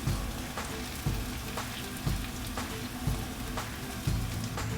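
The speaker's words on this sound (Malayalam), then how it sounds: "ഇനി നമ്മൾക്ക് അരിഞ്ഞു വെച്ചിരിക്കുന്ന സവാള ഇട്ട് കൊടുക്കാം." Sliced onions fry and caramelize in a pan for chicken biryani, giving a continuous hissing sizzle with a soft thump recurring about once a second, no one speaking.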